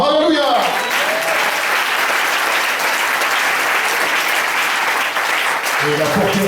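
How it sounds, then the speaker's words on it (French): A church congregation bursts into sustained applause during a service, loud and steady for several seconds, with a preacher's voice at the start and end. "Acclame son nom."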